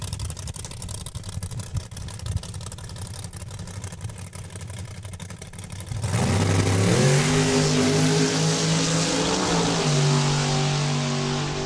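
A 1969 Camaro launches hard down a drag strip at a raceway event, its engine note rising loud and close through stepped gear changes after a quieter stretch of distant background noise.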